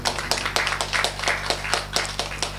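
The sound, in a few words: audience applauding a coach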